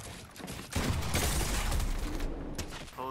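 Shotgun blasts in the game Fortnite: a dense burst of heavy shots and mechanical clatter in quick succession, loud and close, with a sharp click near the end.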